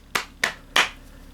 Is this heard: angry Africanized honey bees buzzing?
no